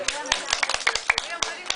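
Children clapping in a group during a playful game, a quick irregular run of about a dozen sharp claps, fairly close, with voices talking over them.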